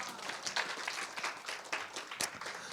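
Audience applause for a speaker at a youth study-camp concert, a continuous, fairly faint patter of many hands clapping with no voices over it.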